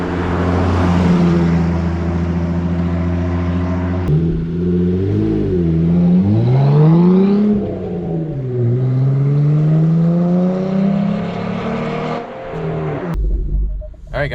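Jeep Gladiator with an aftermarket exhaust revving up and down nearby, a loud, deep droning note that swells and falls across several throttle blips before cutting off.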